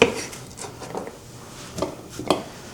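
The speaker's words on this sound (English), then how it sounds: "we got to slice up some red onion, kind of thin, like strips like this" A knife slices a red onion into thin strips on a cutting board, giving a few soft, separate cuts and light knocks at close range with no talking.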